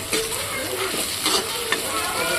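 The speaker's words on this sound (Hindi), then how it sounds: "यहाँ पर हमने ये प्याज को और मिर्चों को थोड़े से तेल में और जीरे को भून लिया अच्छे से।" Chopped onion, chillies and cumin fry in a little oil, making a close, continuous sizzle with a few scraping stirs and short bursts of spatter.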